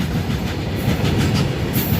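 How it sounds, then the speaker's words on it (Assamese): A heavy train rumbles past at a steady, loud level, its low roar continuous with faint rhythmic clatter from the wagons. "আপোনালোকে দেখিবলৈ পাইছে মালগাড়ী ট্ৰেইন আহিছে।"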